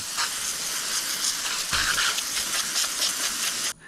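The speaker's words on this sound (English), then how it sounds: "Take your hose, get that slime off the fish." A water hose sprays hard and steady, rinsing slime off a flounder (fluke), a loud, close broadband hiss that runs nearly unbroken for a few seconds and cuts off abruptly at the end.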